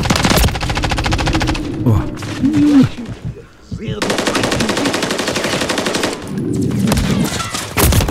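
Automatic gunfire in Modern Warfare 3 on the Highrise map, loud close machine-gun bursts in long sustained strings, with a short lull in the middle and a voice speaking briefly over it.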